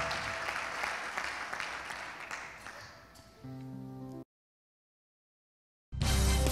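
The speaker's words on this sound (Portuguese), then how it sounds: "Você pode aplaudir Jesus, queridos?" A church congregation claps in a busy, close wash of applause that fades after a few seconds. Steady electronic tones follow, then a cut to silence and a sudden loud burst.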